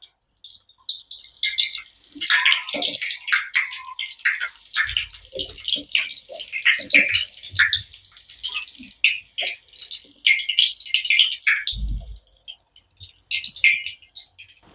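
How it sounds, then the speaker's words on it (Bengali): Potato chops fry in hot oil, giving close, irregular crackling and sharp popping bursts with a few soft low thumps, and no voices. "এভাবে আমি আরো সবকটি ভেজে ফেলবো।"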